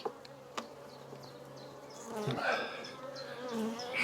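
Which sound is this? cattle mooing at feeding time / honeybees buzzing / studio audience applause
honeybees buzzing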